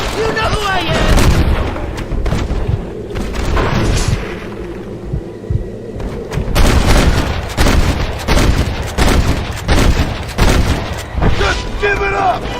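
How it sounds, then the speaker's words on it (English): Gunfire from a Red Dead Redemption shootout rings out in sharp, repeated cracks and booming shots, some clustered in quick volleys, loud and close, mixed with people shouting. "Jesus, they're shooting at us!"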